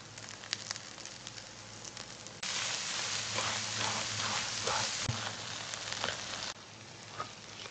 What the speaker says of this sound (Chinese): 油热后倒入蛋液， 鸡蛋炒好以后加入青椒